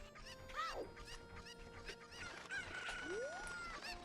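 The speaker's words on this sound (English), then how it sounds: "there are 7 of these cuckoos around town that we need to go and find and deliver to her" Cuckoo chickens in Ocarina of Time Master Quest give a few faint clucks and squawks, including a rising call near the end, over a low game background with no talking.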